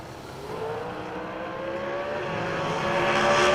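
A Miller Racing dragster driven by Jimmy Chavis runs at the Galot drag strip during the Spring Fling, a steady distant engine roar that swells gradually louder over several seconds, no voices over it.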